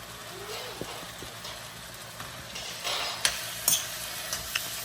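Spinach is stirred in a frying pan with a soft, low sizzle, broken by a few sharp clinks and scrapes of the spoon against the pan.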